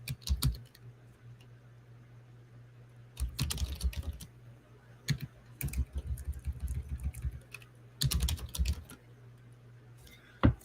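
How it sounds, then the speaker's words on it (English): Keys clatter on a computer keyboard in several quick bursts of typing separated by pauses, close and crisp over a steady low background hum. "Let's start typing."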